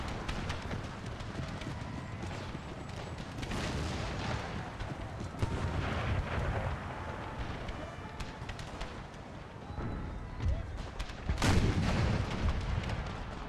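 Artillery shelling in Empire: Total War on a Brothers vs. Brothers battlefield, booming cannon blasts scattered among rattling gunfire and the clatter of galloping horses, a busy, continuous battle din.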